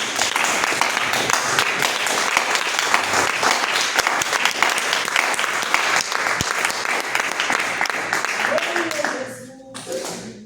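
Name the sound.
congregation applauding in church service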